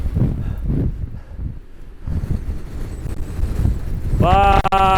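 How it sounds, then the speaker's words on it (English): Strong wind gusting across an open lakeshore batters the microphone with a steady, loud roar, and a voice breaks in over it near the end. "It's so windy out here."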